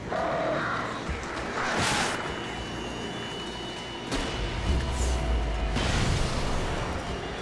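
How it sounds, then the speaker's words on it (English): Crows caw in the Alan Wake video game, a few harsh calls rising over a constant dark ambient drone and rumble, with no talking. "Birds."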